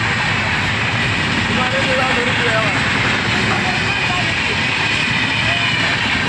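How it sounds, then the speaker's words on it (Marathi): A train runs along the tracks right beside a roadside hotel, producing a loud, unbroken rumble and roar that fills the whole stretch without fading; faint voices sit underneath it. "रेल्वे चालली शेजारने"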